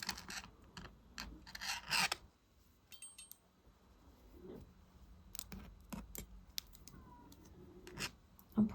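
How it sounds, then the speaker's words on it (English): Square wire twisted with nylon pliers for a pendant, giving intermittent close rasping and scraping bursts with small metallic ticks, irregular and fairly quiet, with no talk. "with my nylon pliers, I'm going to take the end of this wire and I'm going to twist it"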